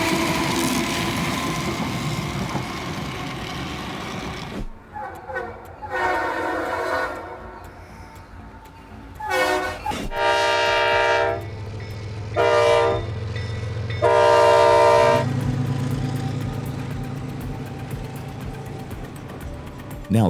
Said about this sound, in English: Entire airplane bodies rolling by on one train.